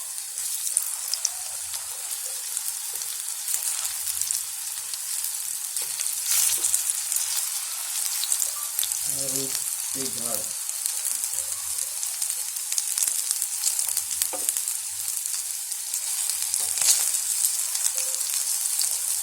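Upvas fasting patties fry in hot oil in a pan, a steady close crackling sizzle throughout, with a few soft scraping stirs and faint knocks as they are gently turned.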